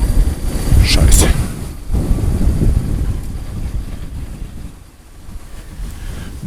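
Strong gusting wind roars across the microphone while riding a motorcycle through Georgia in sunny weather, loud and broadband, easing somewhat toward the end, with a brief voice near the start.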